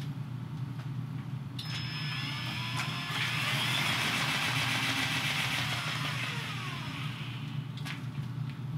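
A spin art machine spins paint on a turntable with a steady, close motor whir and broadband rushing hum that swells slightly midway and holds without pause, with no voices.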